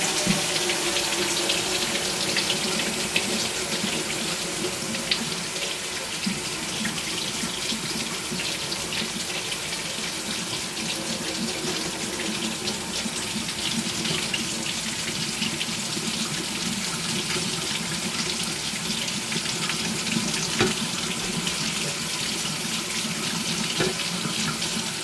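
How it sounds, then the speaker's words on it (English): Water runs steadily from a kitchen sink tap over a glass plate coated with glass etching cream, a continuous, even splashing stream that lasts throughout with no voices. "I'm going to run the plate under some running water"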